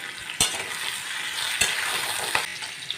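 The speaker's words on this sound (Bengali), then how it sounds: "প্রথমে কড়াইয়ে কষে নেবো নিয়ে আমি এটা কুকারে সেদ্ধ দেবো" Marinated mutton with bay leaves stir-fried in a wok for a curry, a steady bright sizzle broken by a few sharp scraping knocks of the spatula, close and without talk.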